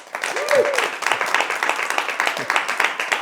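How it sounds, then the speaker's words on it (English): Audience applause for presenters at an evening speaking event, steady and fairly loud dense clapping from a crowd that continues throughout, with a few faint voices mixed in. "join me in thanking each of our incredible presenters this evening with the gift of your applause"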